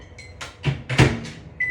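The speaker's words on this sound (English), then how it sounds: "Put it in the microwave for a little bit." A microwave oven is operated close up: a short series of clunks and knocks from the door and buttons, ending with a clear electronic beep, with no talking.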